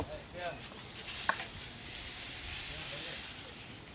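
Mung dal goes into a hot pan and sizzles with a soft, steady hiss that swells toward the end, faint and close, with a light clink early on.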